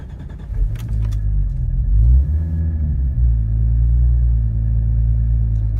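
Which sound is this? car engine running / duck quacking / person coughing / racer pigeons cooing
car engine running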